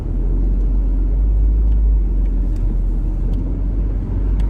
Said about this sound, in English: Flat 6 sound in the back, yeah, very nice.